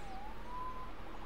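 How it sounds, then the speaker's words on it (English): Police siren in the Spider-Man PC Remastered video game, a single rising and wavering siren tone heard at a distance over a low rumbling background, brief and fairly faint. "Saved by the siren."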